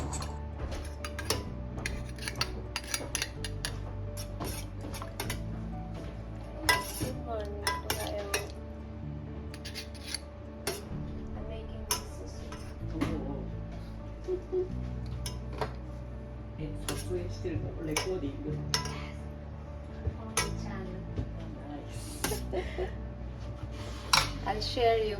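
Vegan miso soup ingredients mixed in a bowl, with scattered clinks and taps of utensil on dishware at close range over a soft steady hum, and a voice speaking at times.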